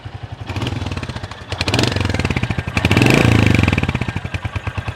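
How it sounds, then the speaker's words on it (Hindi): The exhaust of a 350cc motorcycle idles close by with a deep, thumping beat, rising briefly in a few light throttle swells before settling back to a steady idle. "अभी आपको एग्जॉस्ट साउंड वैसे मैंने सुना दिया"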